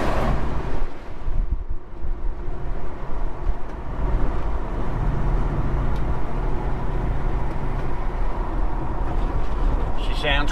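A Holden HK car driving along, its engine a low steady rumble under wind and road noise inside the cabin, continuous throughout with someone talking over it.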